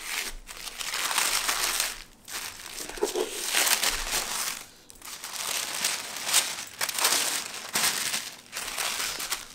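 Paper packaging is torn and crumpled off a book during an unboxing, with bursts of crinkling and crushing separated by brief pauses, close and fairly loud, and no talk over it.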